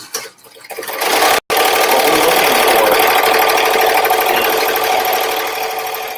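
An embroidery machine stitches an embroidered border for a Mary Poppins project, its loud, close, rapid whirring ramping up, cutting out for an instant, then running steadily with no talking.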